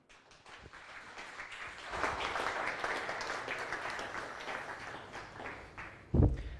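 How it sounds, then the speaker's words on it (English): An audience at a tech talk applauds as a presenter walks on stage, a soft start that builds into steady clapping and holds before a sudden loud thump near the end. "give him a round of applause as well"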